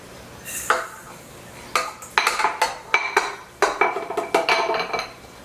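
Butter and sugar go into a mixing bowl for a Sprite pound cake, with a series of sharp clinks and knocks of utensils against the bowl in irregular bursts, close and fairly loud.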